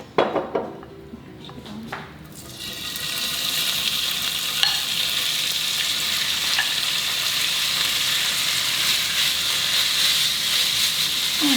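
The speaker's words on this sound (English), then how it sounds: "Then add the meat, sliced meat." Sliced fajita meat drops into a hot pan with a clatter, then settles into a loud, steady sizzle and hiss that holds without a break.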